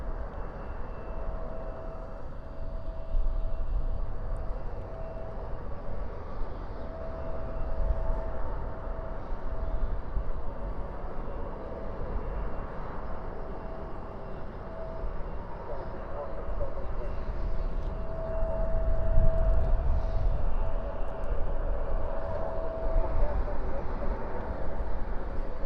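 Airplanes depart at night from the west side of a busy DFW airport, heard as a continuous distant jet roar with a steady whine that builds toward the end. Someone talks over it.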